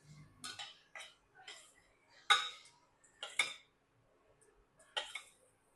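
A spoon scrapes and clinks against a pan while mutton liver gravy is stirred, a series of short, sharp metallic taps spaced about a second apart over near silence.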